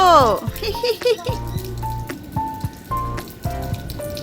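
Rain pours onto a rooftop terrace during a cyclone, a steady close patter running under several people talking and calling out.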